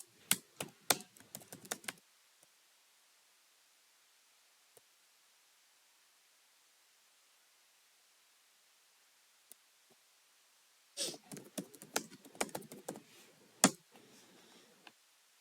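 Quick bursts of clacking keystrokes on a computer keyboard, close and fairly quiet. A short flurry of typing is followed by a long near-silent gap with a few isolated taps, then another longer stretch of typing.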